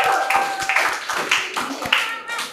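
Children clap their hands in a quick, uneven run of sharp claps at a classroom reading of Acehnese hikayat, fairly close, with voices talking over and between them.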